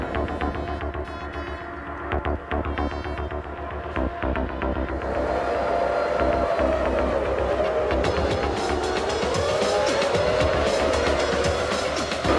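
Formula 1 race cars of 1996 launch from the grid as Villeneuve spins his tyres, engines droning at idle, then swelling into a loud layered, rising scream of many cars accelerating away together.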